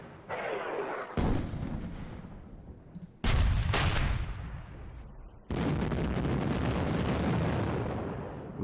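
Artillery firing in the wargame Panzer Battles North Africa 1941, during Operation Compass at Bardia: several heavy, loud booms, each rolling into a long rumbling tail of distant battle, with no talk over it.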